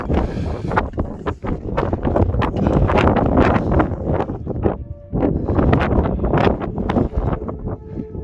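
Strong northerly wind roaring across a mountain summit at Drumochter in the Scottish Highlands, loud gusty buffeting against the microphone that rises and falls in continuous surges, with brief lulls.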